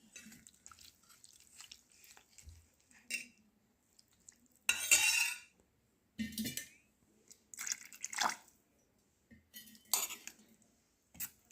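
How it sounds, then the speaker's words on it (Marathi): A spoon stirs semolina batter with water in a bowl, making short wet scraping and clinking bursts at irregular intervals, separated by near silence. "थोडे थोडे पाणी घालून मिश्रण बनवून घ्यावे."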